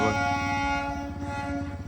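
A train at Devlali Camp railway station, a loud close sustained horn tone over rumbling wheels and engine throb, steady through the short stretch.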